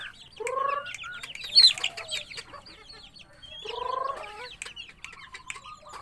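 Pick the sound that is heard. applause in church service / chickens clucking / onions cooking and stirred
chickens clucking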